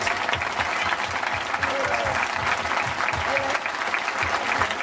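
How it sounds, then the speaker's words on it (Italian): A concert audience applauds at an outdoor show in Dolo, a full, sustained roar of many hands clapping with crowd murmur underneath, steady throughout. "E qua vorrei veramente un grande applauso di tutti voi amici di Dolo per il nostro grande amato Mike."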